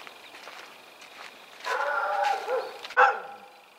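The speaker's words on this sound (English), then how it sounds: "No, he's being a good guard dog." A guard dog barks from close by along a public bridleway near woodland, a few sharp barks that rise over quiet outdoor ambience, ending with one louder bark.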